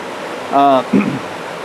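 Fast current of a high, swollen river rushing past a small back cut or slough, a steady broadband roar throughout, briefly overlaid by a short voiced sound and a low thump in the middle.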